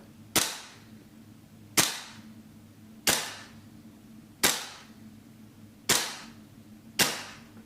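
A gas blowback gel blaster rifle (GM MWS GBBR) fires six sharp, loud single shots at a steady pace about every 1.4 seconds, each a crisp crack with a short decaying tail over a low background hum.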